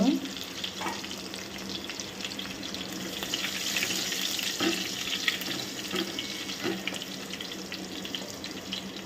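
Garlic and curry leaves frying in oil for a Maharashtrian amti, a soft continuous crackle with faint intermittent clinks, no talking.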